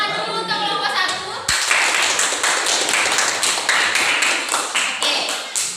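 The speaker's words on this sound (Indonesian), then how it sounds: "Tepuk tangan dulu untuk kelompok 1." Students clap for group 1 in a classroom, a dense, steady patter of many hands that starts abruptly and carries on for several seconds without talk.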